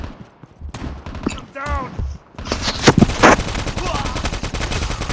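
Automatic weapon fire sounds in Call of Duty Mobile's Front Line multiplayer mode, played on an iPad Pro. Loud, close bursts of rapid shots break out mostly in the second half, mixed with in-game voices and talk.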